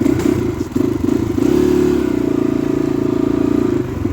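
A motorcycle rides near the India-Nepal border, its engine loud and close with a steady droning hum, a brief dip early on and some rattling over rough ground.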